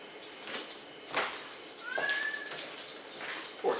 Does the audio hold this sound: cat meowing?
yes